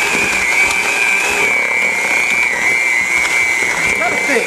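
An electric mixer whirs steadily as cake dough is beaten, a continuous high motor whine that holds close and loud throughout without pauses.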